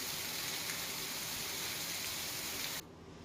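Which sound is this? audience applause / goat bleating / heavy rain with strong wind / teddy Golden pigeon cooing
heavy rain with strong wind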